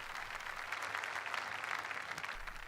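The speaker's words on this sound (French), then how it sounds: "Alléluia, applaudissons pour Jésus-Christ." Congregation applauding in church during a testimony, a dense, even wash of clapping from many hands, moderately quiet and sustained for a few seconds.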